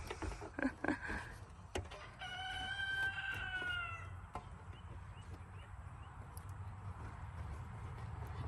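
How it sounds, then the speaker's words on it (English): A rooster crows once at moderate distance in a backyard or driveway setting, a rising then falling call lasting about two seconds, preceded by a few sharp clanks of work on a Town & Country minivan interior and followed by low background noise. "Excuse our rooster."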